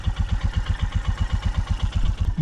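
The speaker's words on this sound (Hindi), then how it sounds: "इसका इंजन ऑयल ना रोटेट भी नहीं हो रहा, तो अभी मैं थ्रॉटल दूंगा नहीं फालतू।" Motorcycle engine idling in freezing winter cold, around minus ten degrees, at a winter campsite, with a steady, even thumping pulse several beats per second, close and alone.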